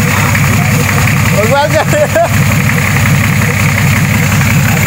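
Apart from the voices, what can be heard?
Nissan TD42 diesel engine starting and idling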